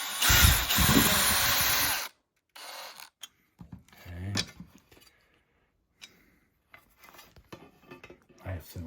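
A loud power drill driving small screws into a TV wall mount whirs steadily for about two seconds, then stops, followed by scattered clicks, clatters and handling noises of small parts.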